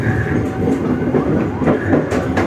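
An economy-class passenger train in Indonesia running on its rails, heard from inside the carriage as a steady, loud rumble with a faint clatter of wheels, with no voices.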